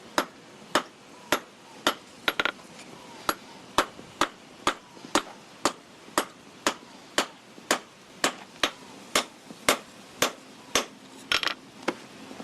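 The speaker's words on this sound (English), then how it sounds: "I'm going to hammer with a flat face now to get rid of some of the dents from the other hammer" A flat-faced hammer strikes sheet metal to smooth out dents, about two dozen sharp, ringing blows in a steady, even rhythm, close and clear with no talking.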